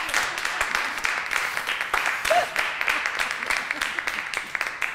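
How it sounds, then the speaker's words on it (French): Applause from a live improv comedy audience for a performer, a steady dense patter of many hands clapping at moderate loudness for several seconds, with scattered voices mixed in. "On l'applaudit"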